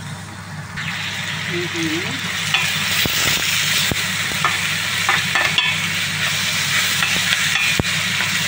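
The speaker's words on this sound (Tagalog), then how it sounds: "Gigisa ko na siya sa sibuyas, bawang at kamatis." Bitter gourd sautéing in a pan with onion, garlic and tomato, a constant loud sizzle and frying hiss with occasional stirring clinks and scrapes, while a person talks over it.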